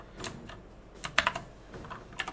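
Keys on a computer keyboard clatter in short irregular bursts, close and moderately loud, with a quick cluster of sharp clicks in the middle and no voices.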